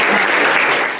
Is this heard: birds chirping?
no